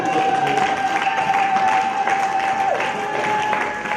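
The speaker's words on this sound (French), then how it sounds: "Est-ce que quelqu'un peut donner une acclamation?" Church congregation applauding during a sermon, a sustained wash of clapping and crowd noise with a steady tone running through it.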